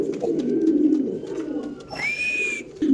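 Spanish pigeon cooing in low, throaty rolling notes, close and repeated, with a brief higher whistle-like tone partway through and some background murmur.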